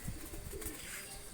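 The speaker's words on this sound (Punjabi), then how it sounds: "ਇਹ ਸਾਰੇ ਉੱਡਣੇ ਵਾਲੇ ਕਬੂਤਰ ਨੇ" Pigeons kept for flying coo briefly at close range, one short throaty call mixed with light rustling and a faint flutter.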